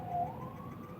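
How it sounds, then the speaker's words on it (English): A passing ambulance siren, faint and distant, with a thin steady wailing tone gliding slightly upward over low background hum for about a second. "we'll let the ambulance go by"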